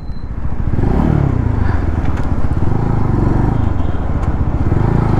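A GTXL V4 Special Edition motorcycle with dual-channel ABS brakes hard, its loud engine note dropping and winding down with some clatter, heard close up.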